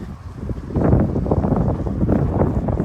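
Strong wind gusting outdoors with snow on a spring evening walk home, a steady loud rushing roar buffeting the microphone throughout.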